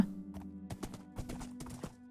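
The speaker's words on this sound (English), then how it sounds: "oh, there's more horses" Several horses in the Minecraft video game clip-clopping in a quick, irregular patter of light hoof clicks. The hoofbeats sit fairly close over a faint sustained tone.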